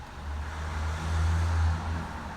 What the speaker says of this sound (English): Some cars, I guess.